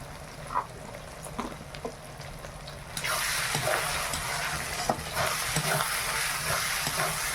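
Chicken with turmeric and tomato is stirred while frying in a village kitchen, an intermittent sizzle with spatula scrapes that swells into a louder, steady fry partway through.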